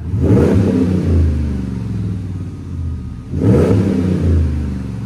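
A car fitted with a Flowmaster Signature Series exhaust revs twice to about 4000 RPM, each blip swelling into a loud, deep exhaust roar before easing back toward a low rumble.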